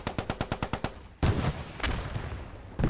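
Automatic gunfire from the WWII shooter game Post Scriptum: a rapid, evenly spaced burst of about nine shots, then a heavier blast and a few scattered loud reports, close and with no voices.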